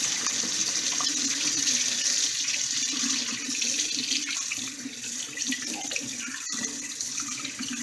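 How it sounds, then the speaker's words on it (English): Tap water runs steadily into a sink as hands are rinsed, a close, continuous hiss and splash with a brief clunk near the end, and no voices. "Let me wash my hands. Give it a little rinse."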